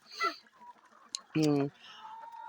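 A single young laying hen gives a short, throaty cluck-like call, with faint chirps and quiet rustling around it in an otherwise calm farmyard setting.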